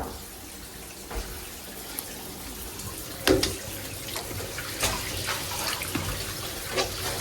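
Tap water runs into a hotel sink while clothes are washed by hand, a soft steady trickle with occasional splashes and sloshes, fairly quiet and close.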